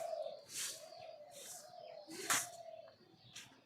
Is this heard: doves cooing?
yes